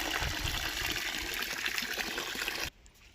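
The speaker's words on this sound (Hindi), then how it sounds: "तो भाई ये पी रही है पानी नमक का और चोकर का" Cattle drink water mixed with salt and bran, giving a continuous close sloshing and trickling that stops abruptly near the end and leaves near silence.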